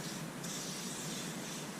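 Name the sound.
WD-40 being sprayed from a can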